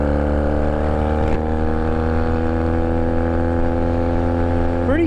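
A beginner motorcycle's engine drones loudly and steadily while riding, with a constant low rumble and tonal whine that shifts slightly in pitch near the end.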